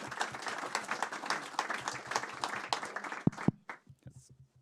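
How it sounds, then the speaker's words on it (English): Scattered clapping from an audience welcoming a speaker at a talk on corporate responsibility for oil pollution, uneven and moderately quiet, tapering off after a few seconds. "Please give an applause for Henrike"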